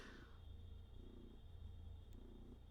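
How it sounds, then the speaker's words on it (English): A cat named Pabu purrs loudly and steadily, lying on a keyboard, the low rumbling pulses continuous and close with no talk over it. "You guys can hear that purring, right? He's so loud."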